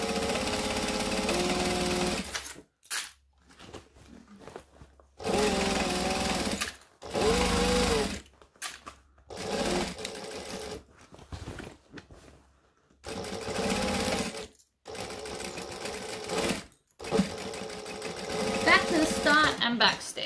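A sewing machine stitches a Divina tote bag, running in repeated loud, close bursts of steady motor whir with short pauses between them while the fabric is turned around the machine. A voice is heard talking in places.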